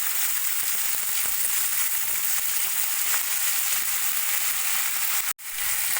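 Garlic, diced capsicum and diced onion frying in a little oil in a wok, a steady loud sizzle that holds throughout, broken by a brief drop near the end.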